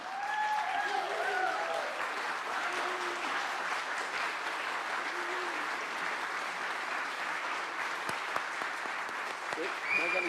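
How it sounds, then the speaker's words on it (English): Steady, even applause from an audience honoring a reverend receiving a congressional Women of the Year award, continuous and moderately loud, with faint voices underneath. "Please join me in giving her a round of applause."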